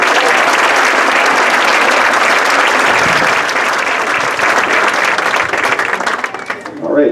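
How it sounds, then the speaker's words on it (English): A crowd at a school band's meet-the-band night gives the band students a strong, sustained round of applause, dense and loud before tapering off at the end, with voices mingled in. "How about a round of applause for those students?"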